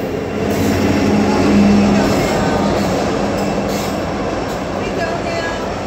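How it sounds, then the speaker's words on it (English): A westbound auto rack freight train rolls past in Roseville, a loud continuous rumble of railcars with faint wheel squeal, swelling slightly in the middle and staying heavy to the end. "And there goes that westbound auto train."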